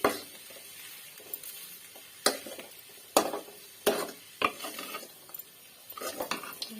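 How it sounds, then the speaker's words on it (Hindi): Turmeric powder stirred into food in a pan with a metal spoon, a series of sharp scrapes and knocks against the pan over a faint sizzle, close and fairly loud. "हल्दी पाउडर पकई भल भाव मिक्स करदे टिके"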